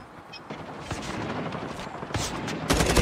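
Video game gunfire from Call of Duty Mobile multiplayer: a quick burst of shots that grows louder toward the end, over a busy, noisy background.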